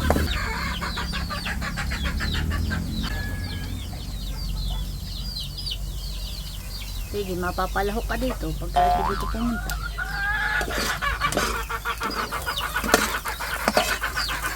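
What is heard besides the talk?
chickens clucking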